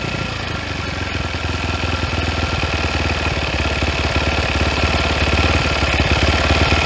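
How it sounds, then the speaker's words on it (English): A 2022 SSR SR300 dirt bike engine idles steadily and loudly after a fuel screw adjustment, a rapid even thumping that continues throughout with no talk. "Now I can bring the idle down."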